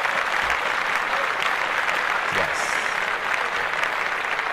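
Dense, continuous applause from a studio audience on a talk show fills the whole stretch, steady and loud with faint voices mixed underneath.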